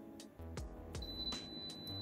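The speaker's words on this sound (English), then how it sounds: "it is beeping. So under this, the copper wire is there." A FNIRSI WD-02 wall detector held against a wall over buried copper wire gives a thin, steady high-pitched beep, faint against soft handling knocks and room noise.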